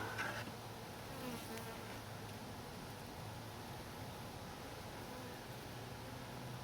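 A steady swarm of honeybees at an apiary drones continuously, a dense even hum with a faint rustle underneath and no voices.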